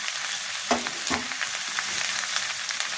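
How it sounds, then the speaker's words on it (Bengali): Steady sizzling of chopped tomatoes stir-frying in a pan, with a couple of brief scraping stirs cutting through the continuous crackle. "টমেটো দিয়ে আবারও ভালো করে কষে নেব"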